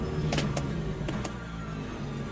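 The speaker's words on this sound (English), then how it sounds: "Then we got an LMP2 coming through here" An LMP2 prototype race car in the racing game Le Mans Ultimate passes amid a steady engine drone, with a few brief sharp bursts in the first half before the sound settles into an even hum.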